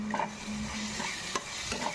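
Ginger garlic paste fries in ghee in a wok with onion, a moderate sizzle broken by stirring scrapes and light clinks.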